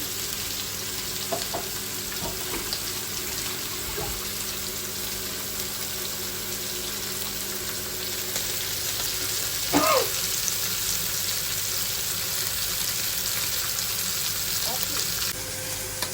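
Small sardines marinated overnight in masala fry in a pan, giving a continuous, even hiss of sizzling oil for a long stretch, with occasional faint clinks and a brief burst of louder spitting midway.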